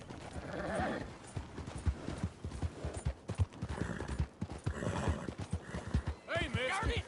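Rhythmic clip-clop of horse hooves at a steady gait in Red Dead Redemption 2, with occasional whinnies and voices talking over the top.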